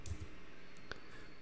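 Quiet computer keyboard typing gives a few soft, scattered clicks close by over a short stretch, with no speech.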